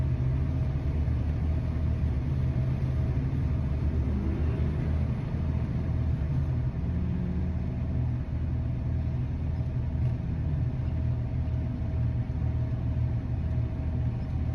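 Low engine rumble fills the cab of a truck sitting in California traffic, a constant idling drone with faint road noise, steady and unbroken throughout, no talking.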